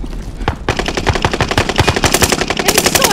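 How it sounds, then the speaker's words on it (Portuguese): Call of Duty: Warzone gunfire on Fortune's Keep, a single loud shot followed by a fast sustained burst of automatic fire, close and rapid with even rhythm, no speech over it. "Eles estão atirando em mim."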